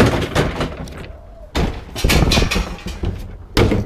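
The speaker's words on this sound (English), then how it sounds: "all I do is I just flip open all the lids" Several lids on scrap bins in a workshop are flipped open in quick succession, a run of close, loud thumps and clatters with short pauses between, some ringing briefly after each knock.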